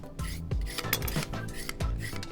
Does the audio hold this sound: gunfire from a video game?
no